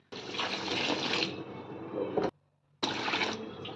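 Rice being rinsed in water while preparing mixed wheat-and-rice papad: a fairly loud splashing, running-water wash comes in two bursts separated by a short, near-silent pause.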